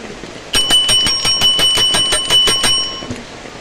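A bell rings rapidly and loudly in a continuous trill of about a dozen strikes, close by, then stops.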